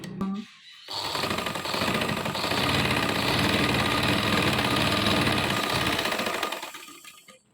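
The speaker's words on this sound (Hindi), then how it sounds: "लास्टिक पर इस तरह से इसको एक दूसरे के ऊपर रखकर सिलाई लगाऊंगी।" A sewing machine stitches elastic onto a farshi shalwar with a close, steady, rapid mechanical whir that starts after a short pause and runs for several seconds before stopping.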